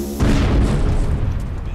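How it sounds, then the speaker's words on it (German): A heavy explosion in the video game Overlord, one deep booming blast that erupts sharply after a brief lull and then rumbles away gradually, loud and close. "Da explodiert ja was"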